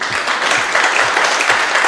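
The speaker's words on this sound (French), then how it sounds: "Et on l'applaudit bien fort." Loud audience applause at a live comedy show taping, brisk dense clapping for a couple of seconds with a few heavier hand claps standing out.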